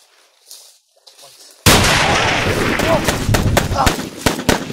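Sniper gunfire during an intense armed encounter: after quiet murmuring, a loud burst of noise sets in, with a series of sharp, close cracks ringing out in irregular succession.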